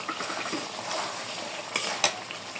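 Fried potatoes and ridge gourd stirred into cooked-down curry masala in a pan, a steady soft scraping and sizzle with a couple of sharper utensil clinks near the end.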